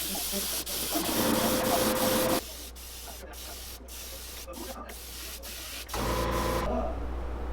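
Spray gun hissing as white paint goes onto a flat-sided finesse minnow jerkbait in a shop, steady bursts from about 0 to 2.4 s and again near 6 s, with quieter shop noise between.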